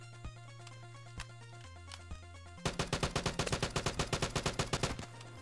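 Gunfire in the online shooter Vigor: a few sparse single shots, then a rapid, loud automatic burst of about a dozen rounds lasting roughly two seconds.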